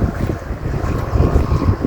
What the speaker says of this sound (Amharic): ከባድ ነፋስ ነው ያለው በነገራችን ላይ